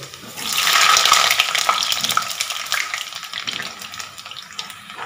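Three medium potatoes, diced, hit hot smoking oil in a pan for a Bengali mutton curry and erupt into a loud hiss that settles into a steady, crackling sizzle.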